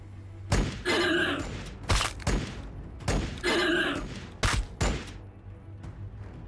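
Units firing in the strategy video game Warhammer 40k Battlesector: a run of sharp, loud shots and thuds, some in quick pairs, mixed with noisy sustained bursts of weapon fire over several seconds.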